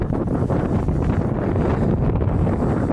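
Steady wind buffets an outdoor microphone on a winter hike in the Finnish wild near Hirvensalmi, a continuous low rumbling roar throughout with no voices.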